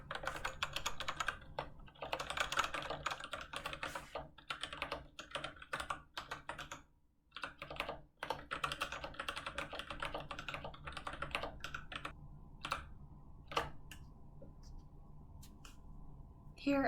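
Fast, steady clicking of keys on a Kinesis Advantage split ergonomic keyboard, close and moderately loud, with brief pauses between bursts of typing.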